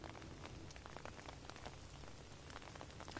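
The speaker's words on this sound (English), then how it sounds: "It's just raining. It's a very cold rain, but it is just rain at this point." Cold, steady rain falls throughout during a live outdoor news report from Frankfort ahead of an ice storm, a continuous dense hiss with scattered drop patter, with no speech.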